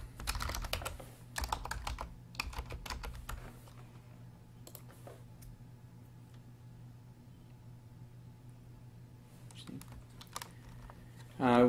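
A new member's name typed on a computer keyboard, bursts of rapid key clicks at the start and again near the end with a quiet pause between, over a steady low hum.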